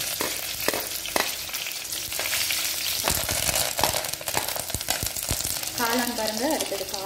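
Dried red chilies frying in hot oil after mustard seeds have popped, with a steady dense sizzle and crackle, occasional stirring clatter, and a brief higher whistling tone near the end.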